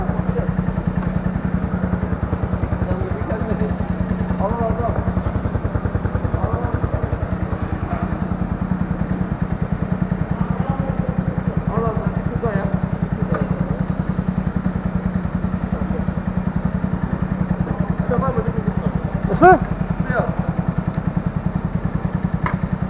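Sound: motorcycle engine and exhaust running at vehicle inspection

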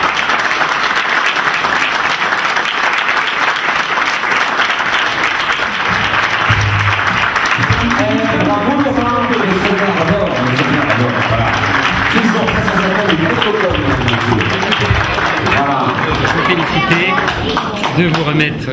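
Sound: audience applause

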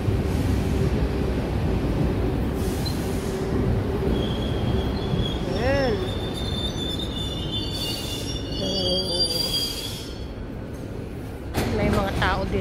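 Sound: train arriving at station

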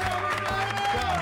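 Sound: audience applause

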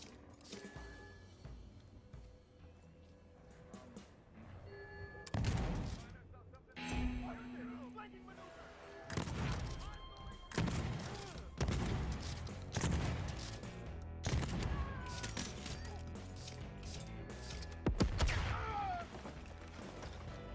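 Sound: shotgun gunfire in the video game DeathLoop

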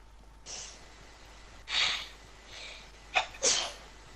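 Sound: sneezing

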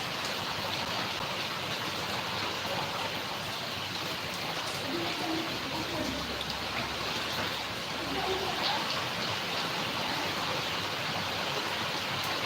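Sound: rain falling

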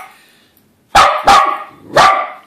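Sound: dog barking at a helicopter

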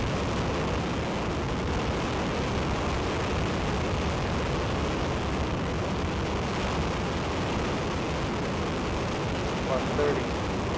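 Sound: Ares I five-segment solid rocket motor test firing

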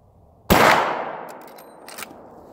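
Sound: gunshots from a Marlin rifle with 43 grain wadcutter loads

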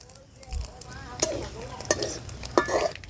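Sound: panch phoron spices sizzling in hot oil

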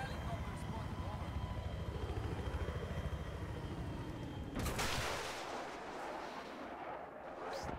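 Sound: enemy helicopter in a video game

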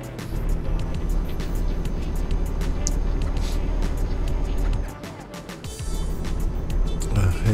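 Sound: Volvo truck engine driving, from video game Euro Truck Simulator 2

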